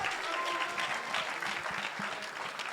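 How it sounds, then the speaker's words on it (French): An audience applauds award winner Sabrino at the Vox Milo 2025 closing ceremony: steady, dense clapping from a crowd that holds at an even level throughout, with no voices standing out. "on peut l'applaudir, hein, encore une fois"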